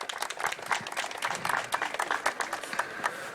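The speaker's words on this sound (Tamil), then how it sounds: "கரகோஷத்துடன் வரவேற்போம்." Scattered audience clapping welcoming a minister at an Environment Day plantation drive on Besant Nagar beach, an uneven, moderately quiet patter of hands over the short span.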